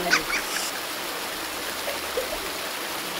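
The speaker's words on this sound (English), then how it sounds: "This is the Victoria Falls in Zimbabwe." Rushing water of Victoria Falls in Zimbabwe, a steady broadband roar of falling water without pause, moderately loud and even, with faint bird calls over it.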